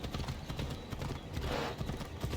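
Horse hooves clip-clop steadily in a video game, a dense, continuous trotting patter over a busy, noisy backdrop with no speech.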